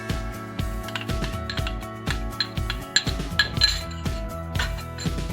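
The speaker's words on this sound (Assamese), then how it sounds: "ইয়াত মই এতিয়া নিমখ দিছোঁ, ইয়াৰ পিছত কেঁচা পিঁয়াজ ঢালিছোঁ" Utensils clink and tap against a bowl in quick, irregular strikes while salt and raw onion go into an Assamese ash gourd pitika, close and fairly quiet over a faint tonal background.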